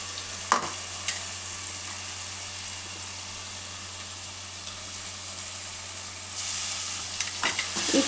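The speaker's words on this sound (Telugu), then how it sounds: "పేస్ట్, పసుపు పచ్చివాసన పోయేంత వరకు వేయించుకోవాలి." A freshly ground spice paste fries in oil in a pan on a low flame, giving a steady, soft, close sizzle with a few light stirring scrapes; the pan is cooking a 90s-style korameenu (murrel) fish curry.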